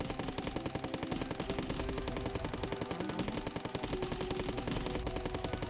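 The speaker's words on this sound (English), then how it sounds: "So with our first evolution of the assault rifle, we get higher DPS, a faster fire rate, and more accuracy." Assault rifle in the video game Cally's Trials firing a long, rapid, evenly spaced stream of crisp shots, loud and close, with no talking.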